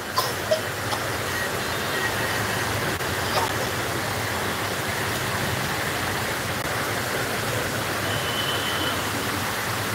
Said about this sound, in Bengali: দেখেন কি ঝুম বৃষ্টি।